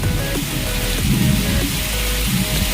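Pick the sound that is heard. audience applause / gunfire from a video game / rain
rain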